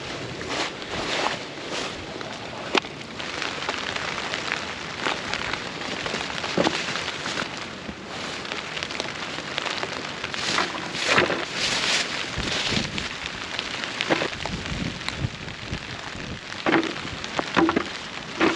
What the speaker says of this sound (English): the rain and wind picked right back up